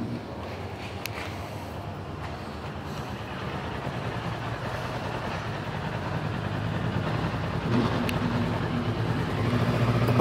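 A 2016 KTM Super Duke 1290 R motorcycle fitted with an Akrapovic exhaust idles steadily and alone, a constant low engine rumble that grows slightly louder toward the end.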